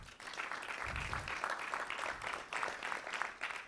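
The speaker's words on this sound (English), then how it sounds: "Please give her a round of applause as well" Steady applause from a moderate-sized crowd at a community meeting about an entertainment and sports arena, continuous clapping at mid distance with no voices over it.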